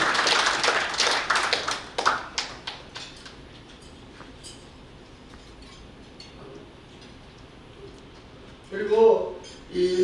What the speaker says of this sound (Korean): 자, 모두 한꺼번에 박수로 환영해 주시기 바랍니다.